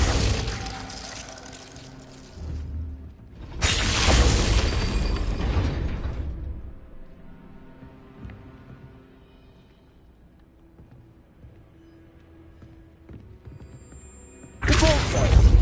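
Glacius ice spell cast in the Hogwarts Legacy video game, heard as two loud bursty crackling blasts with a ringing tail between them and a third sharp burst at the end.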